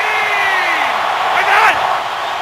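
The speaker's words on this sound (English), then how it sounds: "this crowd has come to life" A stadium crowd roars at a Texans home football game against the Ravens, a loud sustained wash of cheering that swells briefly, with a commentator talking over it.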